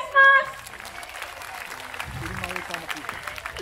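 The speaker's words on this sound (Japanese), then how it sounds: "今一度皆さん拍手をお願いします。" Audience applause follows a lion dance performance at an outdoor bullring during a traditional performing arts festival, a steady wash of clapping with a brief louder burst at the start and a few voices mixed in.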